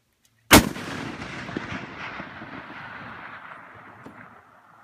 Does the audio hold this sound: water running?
no